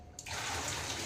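Water pours and gushes steadily as boiled potatoes are drained, a close continuous splashing stream that starts abruptly after a brief quiet moment and carries on without a break.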